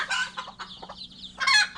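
Bantam chickens cluck and squawk in short, loud bursts close by, with brief pauses between calls and no talking.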